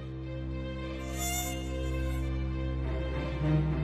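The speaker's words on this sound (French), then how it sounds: "Le moustique, un insecte sournois qui vient hanter nos nuits et ôter des vies" A mosquito's thin, high whine hums steadily and close, a continuous nasal drone that wavers slightly in pitch while it hovers, heard alone with no voices.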